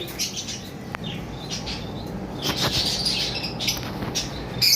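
Blue lovebirds in cages chirp and tweet in short, scattered high-pitched bursts, with faint fluttering and rustling, fairly close with light background noise and no talk.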